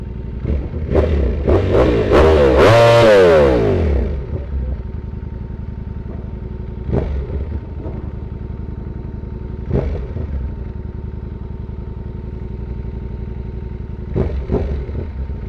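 Motorcycles at an evening bike night, including a Ducati V4S, ZX6R and RS660, with one bike revving loudly and then pulling away up close, followed by fainter engine passes and idling in the background.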